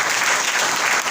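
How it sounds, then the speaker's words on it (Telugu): A congregation at a sermon gathering claps loudly in a brief, dense burst of continuous applause. "చప్పట్లు కొట్టండి గట్టిగా"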